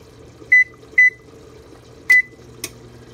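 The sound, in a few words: oven control panel beeping while setting temperature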